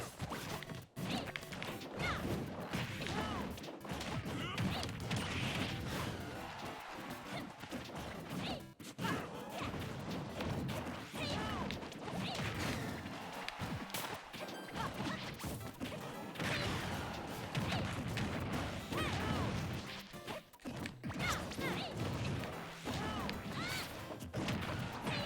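Loud, dense hits and crashes from Super Smash Bros Ultimate fights, including up smash attacks, a steady barrage of whacks, thuds and whooshes over about twenty-five seconds with almost no pauses.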